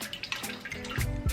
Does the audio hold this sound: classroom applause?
no